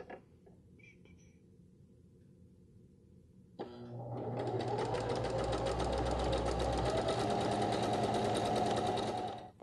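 A sewing machine stitches the armpit seam of a tank top romper, starting after a quiet lead-in and then running steadily and loudly for several seconds with a dense mechanical whir.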